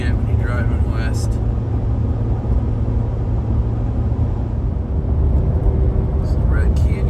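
A car driving west on a highway in the morning, a steady loud low road rumble and engine drone filling the cabin, with faint intermittent higher whines.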